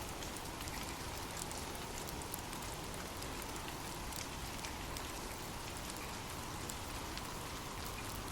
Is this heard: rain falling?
yes